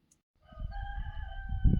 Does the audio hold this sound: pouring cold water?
no